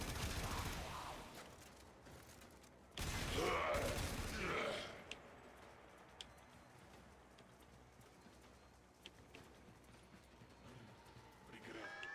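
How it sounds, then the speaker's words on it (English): Enemy gunfire in the sci-fi shooter game Warframe, a loud burst of rapid shots in the first few seconds followed by quieter scattered pops and ambient game noise. "Someone's shooting at me."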